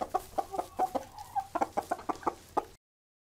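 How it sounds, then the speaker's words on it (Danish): A hen clucks in a quick series of short, separate clucks with brief pauses between them, close and clear, with no voices. "En høne."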